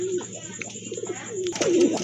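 Pigeons at a market stall give soft, low coos close by, several rolling calls over a faint steady background hiss.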